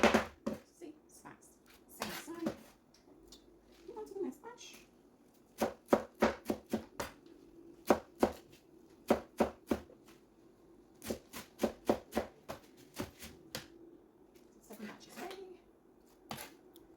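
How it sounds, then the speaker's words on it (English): A knife slices vegetables for Afang soup into tiny pieces, with sharp, close chopping strikes on a board coming in quick irregular bursts and pauses, and a person speaking briefly between cuts. "So I'm going to slice it as tiny as possible"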